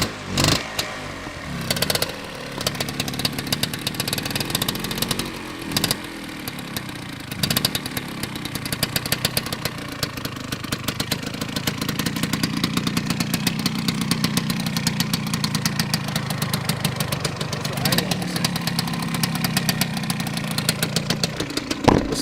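A 1970 Suzuki TS250-II two-stroke motorcycle engine idles close by, a loud, rapid, uneven popping burble with a few brief throttle changes, running alone for the whole stretch.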